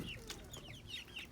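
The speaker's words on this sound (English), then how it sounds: "Let's go ahead and move over to the small chickens." Small chickens give soft, quick clucks and peeps in a coop at feeding time, faint and close together over low background noise.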